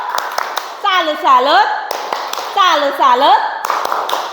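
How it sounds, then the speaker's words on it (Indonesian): A classroom group doing the rhythmic 'tepuk salut' salute clap, sharp patterned claps in quick bursts with a voice chanting melodically between and over them. "Tepuk salut."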